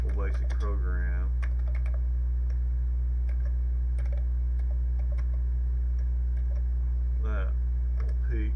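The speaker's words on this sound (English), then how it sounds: "So to test this, let's write a simple basic program." Keys clatter on a Commodore 128 keyboard as a short BASIC program is typed in, with bursts of individual clicks spread across the span over a steady electrical hum, and a voice speaking briefly at the start and near the end.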